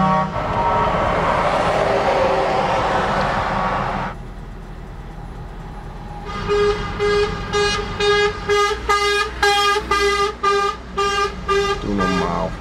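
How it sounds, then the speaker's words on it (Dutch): Car and truck horns honk repeatedly in a stalled traffic jam, a dense wash of sustained tooting that fades out, then sharp staccato honks and short bursts ring out loud and close in irregular rhythm. "Ik hoor het overal getoeter en gezongen."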